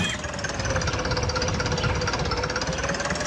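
Tractor engine in the farming game Agrar Simulator, a loud, steady rattling drone with rapid knocking pulses, running continuously and close, with no pauses or voices.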